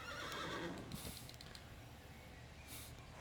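A horse neighs in the Unicorn Princess video game, a loud whinny that trails off, followed by hoof clip-clops and faint mechanical creaks in the game's backdrop.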